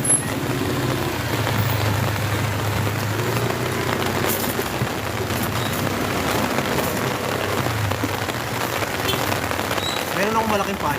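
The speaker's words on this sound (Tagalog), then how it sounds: "La, ulan na malakas." Heavy rain pours down on a flooding road, a constant loud hiss with an engine-like low rumble beneath and voices talking intermittently over it.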